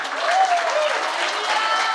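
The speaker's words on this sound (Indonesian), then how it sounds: "Tepuk tangan dulu." A church congregation applauds during a sermon, a dense, even wash of many hands clapping together that stays steady throughout.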